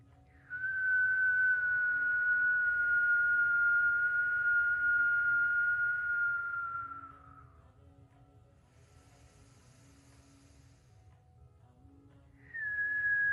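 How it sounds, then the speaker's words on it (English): During a gentle kundalini yoga breathing exercise, a person whistles on the exhale. It is one long, steady, slowly falling tone of about seven seconds, then a pause, and then another whistle begins, close and clear over a faint low hum. "just exhale and whistle as best you can"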